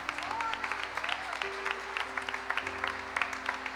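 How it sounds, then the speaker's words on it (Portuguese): A church congregation at a Methodist sermon claps in praise, a steady, moderately loud applause with crisp individual claps, mixed with a sustained tone that may be musical accompaniment, lasting nearly four seconds. "Vamos aplaudir o nome dEle."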